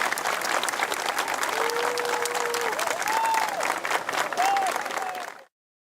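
Public crowd applauding steadily as Dominguinhos' funeral procession leaves Recife for Garanhuns, sustained dense clapping throughout, with faint whistles or calls rising above it, ending abruptly.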